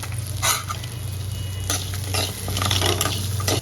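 A handful of garlic and three dried red chillies fry in oil in a pan, with a steady close sizzle, stirring scrapes and a low hum beneath.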